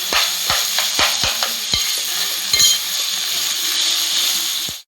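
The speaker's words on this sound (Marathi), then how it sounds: "चांगलं मिक्स करून दिलं." Boiled taro leaves and stems stirred in a frying pan: a steady close sizzle with repeated scraping clinks of the spoon against the pan.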